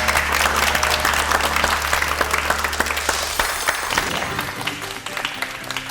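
A lecture audience applauds Professor Jeong Jae-chan of Hanyang University's Korean Language Education department with sustained, dense clapping that tapers slightly toward the end, while a voice speaks briefly over it.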